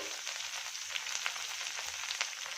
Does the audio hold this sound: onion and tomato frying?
yes